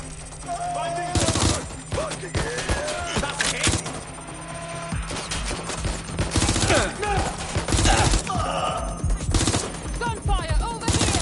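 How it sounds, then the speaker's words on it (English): Rapid bursts of automatic gunfire crackle loudly in several volleys in the video game Watch Dogs: Legion, mixed with game sound effects and background music. "Gunfire over here!"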